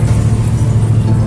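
Truck engine droning steadily while climbing an uphill road on an old route, a loud low rumble close by with no break across the clip.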